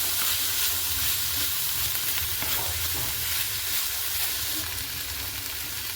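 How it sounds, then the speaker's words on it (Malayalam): Tomato, green chili, curry leaves, cabbage and ginger-garlic paste are stirred in a hot pan for kothu chappathi, producing a steady close sizzle with soft scraping of the spoon, continuous and fairly loud. "തക്കാളി പച്ചമുളക് കറിവേപ്പില ക്യാബേജ് ഇഞ്ചി വെളുത്തുള്ളി പേസ്റ്റ് ഇതെല്ലാം നന്നായി മിക്സ് ചെയ്ത് കൊടുക്കുക"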